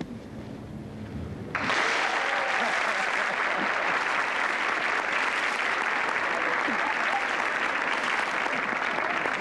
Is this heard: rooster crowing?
no